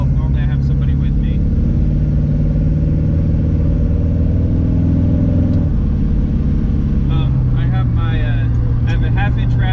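1977 Chevy Nova fitted with a Summit exhaust kit, rumbling loudly and steadily from inside the car as it cruises, with a drop in engine pitch partway through.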